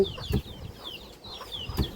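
Free-roaming chickens in a rural Lao village give soft, short clucks at moderate distance. Chirpy bird calls and faint ambient noise sit beneath them, with no talking.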